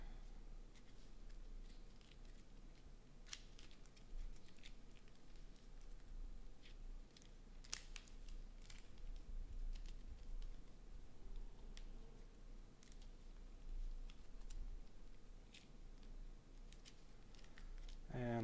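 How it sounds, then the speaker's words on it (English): Board game cards being shuffled during a Rambo board game session, a soft papery riffle and flutter under quiet background noise, with occasional light clicks and taps nearby. "Have to shuffle the deck."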